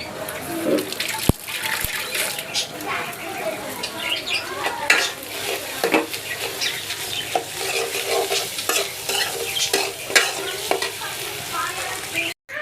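Noodles stir-fried in a pan: a loud, continuous sizzle with frequent scraping and clattering of a utensil against the metal, plus a couple of sharp knocks near the start and a soft voice in the background.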